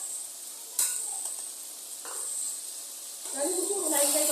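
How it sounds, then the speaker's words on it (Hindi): Chicken frying in a pan with nihari masala gives a continuous bright sizzle and hiss, with occasional stirring scrapes and a louder burst near the end. A voice talks over parts of it. "चिकन अच्छी तरह फ्राई हो गई है"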